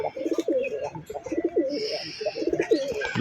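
Jabra and Bagha pigeons cooing nearby, repeated throaty rolling coos in short bursts, close and clear over a quiet background.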